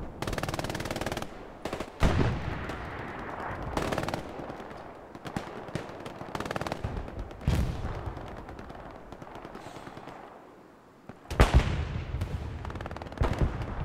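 Automatic and rifle gunfire in Hell Let Loose on the Foy map at night during a competitive match, with rapid bursts and sharp single shots recurring throughout, some loud and close, others more distant, with no talk.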